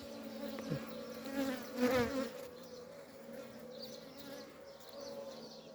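Honeybees hum in a dense, steady drone at an opened beehive during a hive inspection, close and moderately loud, with a brief louder swell as bees pass near; no talking.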